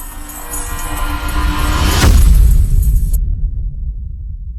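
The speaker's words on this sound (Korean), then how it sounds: "우르릉 쾅! 장대비가 기왓장을 부술 듯 내려꽂히는 밤이었습니다." A heavy boom of thunder rolls out over a steady wash of hard rain pounding a tiled roof at night, then the rain hiss cuts away, leaving a low rumble fading.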